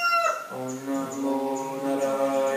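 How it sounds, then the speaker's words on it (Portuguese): A rooster crowing during a morning yoga and mantra session, one long drawn-out call with a rising start and a sustained, wavering tail, clear and fairly close, with no speech over it. "Toma consciência do galo."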